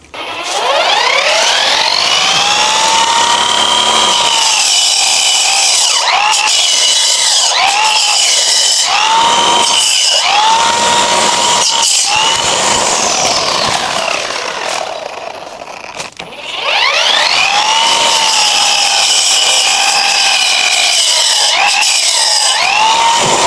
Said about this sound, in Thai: เพราะว่ามันเป็นใบวงเดือนก็ จะสามารถตัดแต่งกิ่งต้นไม้ได้